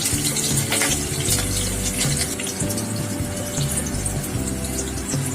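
Tap water runs steadily while kolai dal lentils are washed in a kitchen, a close continuous splashing stream with no talking.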